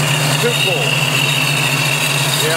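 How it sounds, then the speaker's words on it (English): Supercharged 427 V8 in a custom 1966 Mustang idling close by, a loud steady rumble with a constant high supercharger whine on top, unbroken for a couple of seconds. "That's the supercharger. They'll know it when you come pulling in."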